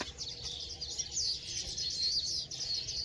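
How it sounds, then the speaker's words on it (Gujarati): Birds chirp and tweet continuously in the morning in high, bright calls, several at once, with steady outdoor background and no talking. "મસ્ત મજાનો અવાજ પણ પક્ષીઓનો આવતો હોય છે"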